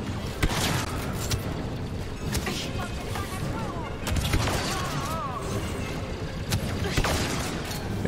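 Blaster gunfire and explosions in Star Wars Battlefront 2 story mode, rapid shots and booming blasts in dense layered bursts with mechanical whirs, loud and continuous, with voices speaking over the action.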